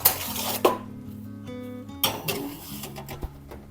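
A metal roasting pan holding a vegan Thanksgiving turkey clanks and rattles as it is pulled from the oven for basting, with close sharp knocks and a ringing metallic tone.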